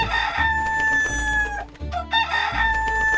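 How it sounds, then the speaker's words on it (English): A rooster crows loudly and close, a long drawn-out call followed by another crow starting near the end. "a rooster suddenly landed on Emily's head and began to crow"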